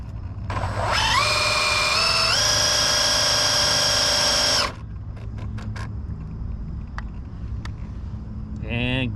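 A Traxxas Drag Slash Chevrolet C10 RC drag car launches on its trans brake: a loud electric motor whine climbs and holds for about four seconds, cuts off abruptly, and is followed by a few sharp clicks.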